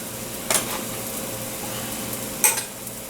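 Sausages for wraps fry steadily in a pan, a soft continuous sizzle with two brief sharper clatters of a utensil against the pan, no talking.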